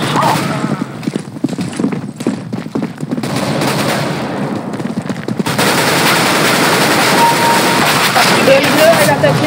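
Rapid gunfire bursts from a CS:GO match, dense automatic rattling in the first half, then a steadier roar of shots and game noise, loud and close with players' voices over it.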